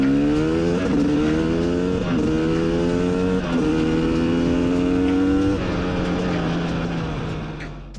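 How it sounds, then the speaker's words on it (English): A two-stroke dirt bike engine revs up loud and close, pitch climbing in repeated sweeps as it shifts up through the gears, with no talking over it. "For the second run, I go from 1st gear to 5th gear, lightly pulling in the power band."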